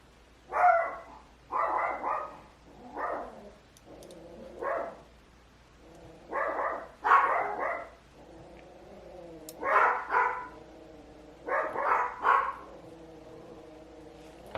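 Several small house dogs bark in repeated bursts indoors, fairly close and loud, with short pauses between volleys and no talking over them.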